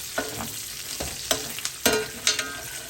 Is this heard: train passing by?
no